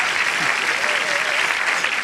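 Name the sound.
audience applause for Gilles Dalle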